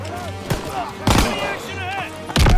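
Gunfire in the World War II shooter game Call of Duty WW2, with loud bursts of shots cutting in between excited voices and radio-style chatter during a firefight.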